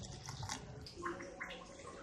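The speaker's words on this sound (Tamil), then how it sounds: "இப்போ இதோட தண்ணி சேர்த்துக்கலாம்." Water poured into a mixer jar with blended kirni (muskmelon) fruit for juice, a soft splashing, gurgling trickle that runs steadily for about two seconds, faint and close.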